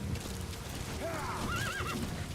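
D-Horse, the horse in Metal Gear Solid V: The Phantom Pain, lets out a wavering whinny over steady outdoor background noise, with faint hoof clops.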